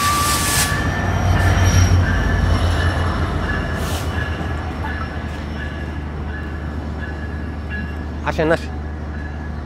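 A train locomotive reverses at a station with a steady loud rumble of rolling wheels and a brief metallic squeal near the end, while people talk over it throughout.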